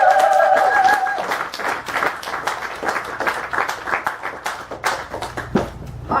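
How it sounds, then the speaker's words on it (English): Audience in Portland applauds and claps for a poet at a reading, a moderately loud wash of clapping that continues steadily for several seconds and tapers slightly toward the end. "please give a big round of applause"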